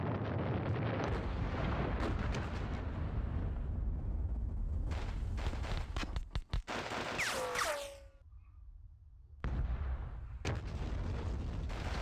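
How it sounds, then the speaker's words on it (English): Artillery barrage in the John Tiller's Battles of Normandy wargame: deep rolling booms and rumbling detonations sustained for long stretches, a cluster of sharp blasts and a falling whistle in the middle, then a brief lull before the barrage resumes. "So I hope my next artillery barrage can get some of these units disrupted here."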